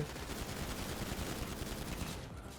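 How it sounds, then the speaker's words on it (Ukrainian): Rapid, continuous bursts of gunfire in GTA 5 crackle through a dense, noisy mix, steady and unbroken, with no voices over it. "там вони стріляють"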